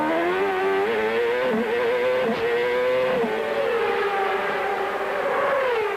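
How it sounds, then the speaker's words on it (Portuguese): A 1999 IndyCar race car at the Long Beach Grand Prix street race screams loudly and continuously, its high engine whine dipping and climbing as it shifts gears, with no voices over it. "Vamos sentir a saúde do motor do Gil de Ferran."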